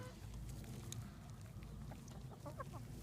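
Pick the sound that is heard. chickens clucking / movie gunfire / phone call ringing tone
chickens clucking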